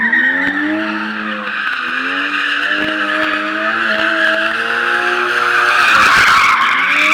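A BMW E90 drift car with traction control switched off slides, its tires squealing loudly and continuously. The engine note bends up and down underneath, and the screech swells near the end with no talk.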